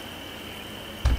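Crickets chirping steadily in a night scene of the video game Life Is Strange 2, a soft continuous trill ending with a brief loud thump.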